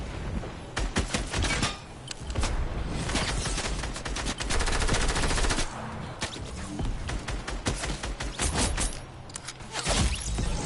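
Fortnite Team Rumble firefight with sniper rifle shots among the gunfire: dense, loud, rapid cracks and clattering bursts run almost continuously, with brief lulls and no talk.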